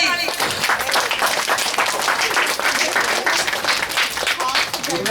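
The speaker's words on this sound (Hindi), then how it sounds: "करताली" A crowd at a wedding sangeet applauds with dense, continuous clapping that stays fairly loud and even throughout, with voices mixed in beneath it.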